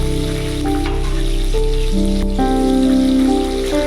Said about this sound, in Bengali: তেল গরম হয়ে গেছে আমি দিয়ে দিলাম শুকনো লঙ্কা ফোড়ন আর এর মধ্যে আমি যে পেঁয়াজ রসুন কাঁচা লঙ্কাগুলো কেটে রেখেছিলাম সব একসাথে দিয়ে ভালো মতো আমি ভেজে নেবো